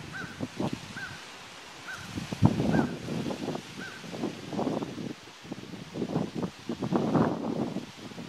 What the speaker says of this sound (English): Hear an old crow call?